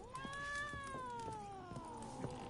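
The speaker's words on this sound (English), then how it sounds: "This cat doesn't like me." A cat in The Witcher 3 video game gives a single drawn-out, rising then falling meow, clear and close, with faint background game ambience.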